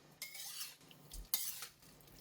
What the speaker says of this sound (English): lastly we're going to add in the crispy fried garlic